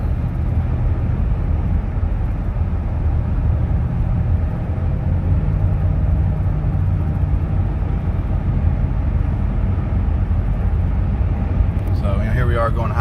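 A 2006 Toyota Tundra SR5 with a 4.7L V8 and five-speed transmission cruises at highway speed, a steady, loud low road and engine rumble throughout with a brief rustle near the end.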